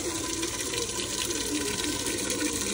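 A pigeon's water container being filled from a running tap, a steady gushing stream of water lasting throughout, close and loud with no voices.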